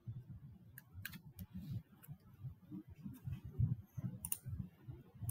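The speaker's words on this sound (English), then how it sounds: "I'm going to start by typing in our equation right here" Soft, rapid clicking of calculator keys being pressed to enter an equation, an irregular string of light taps close by and quiet, with no talking.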